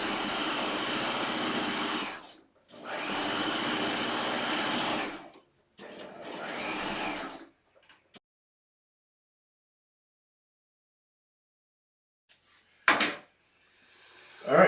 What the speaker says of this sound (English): I'm going to stay stitch my center back at an inch